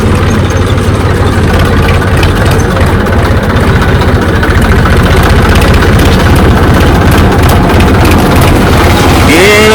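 A tractor engine runs steadily and loud on a rough track through thorny babul scrub, with a constant low drone close by throughout and no pauses.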